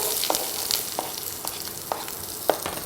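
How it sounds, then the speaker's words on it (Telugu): Onions frying in a pan with mustard seeds, cumin and green chillies, a continuous bright sizzle with periodic scraping stirs roughly every half second, close by; no talking. "చక్కగా ఫ్రై చేయాలి"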